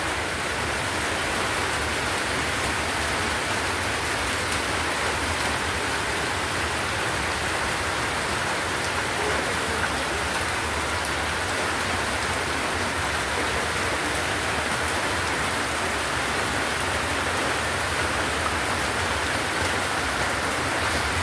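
Heavy rain pours steadily on a surface during a storm, a dense, even wash of hissing noise with no break and no talking for about twenty seconds.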